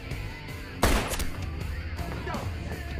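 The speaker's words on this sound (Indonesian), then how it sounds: "John dengan cepat melumpuhkan salah satu seorang sniper dan mengambil alih senjata M2 untuk menembaki para penjaga serta teman Yosef tanpa meleset." An M2 heavy machine gun fired in the action film John Wick, with one sharp loud burst early on followed by lighter gunfire and action noise, mixed under a steady film soundtrack.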